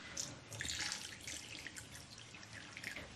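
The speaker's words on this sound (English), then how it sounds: "I put some noodles, then I pour broth." Broth is poured into a ramen bowl over noodles, a soft continuous liquid splash and trickle with a few brighter drips, fairly quiet and alone.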